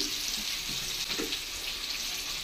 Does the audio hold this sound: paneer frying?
yes